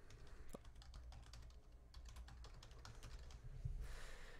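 Quiet, steady typing on a computer keyboard as a search phrase is entered, a run of soft, fairly even key clicks close to the microphone.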